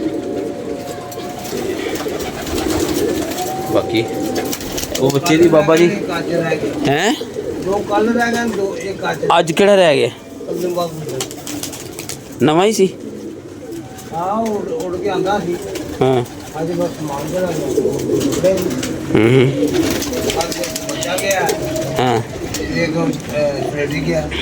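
Pigeons coo repeatedly from nearby, likely on a rooftop, their soft rolling calls recurring throughout beneath an ongoing conversation between people.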